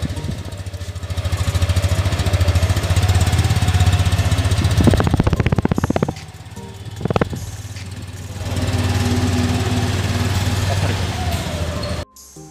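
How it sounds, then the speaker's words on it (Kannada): A 2020 Suzuki Intruder 155 BS6 motorcycle with a double-barrel exhaust idles with a steady, low thrum, blips its throttle in a couple of sharp revs midway, then settles back to idle. "ಈ ಬೈಕ್ನ ಎಕ್ಸಾಸ್ಟ್ ನೋಟ್ ತುಂಬ ಚೆನ್ನಾಗಿದೆ ಹಾಗೂ ಆ ಡಬಲ್ ಬ್ಯಾರಲ್ ಎಕ್ಸಾಸ್ಟ್"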